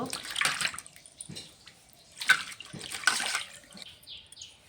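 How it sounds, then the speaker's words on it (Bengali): Cut pieces of fresh fish being washed by hand in water, with several splashing, sloshing bursts at close range separated by short pauses, and no talk. "মাছটা ভালো করে ধুয়ে নেব।"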